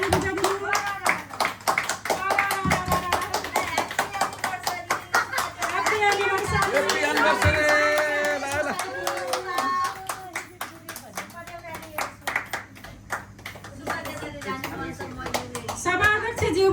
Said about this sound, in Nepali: सबैजनाले ताली बजाइदिनु होला।